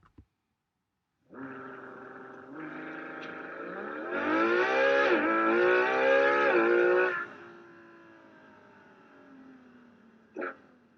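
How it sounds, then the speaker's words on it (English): A Ferrari Monza SP2 V12 engine plays back from an interactive display, rising in stages from a steady idle to a strong revving climb, then settling to a quieter drone, heard fairly faint with a short click at the end. "you can actually listen to the engine"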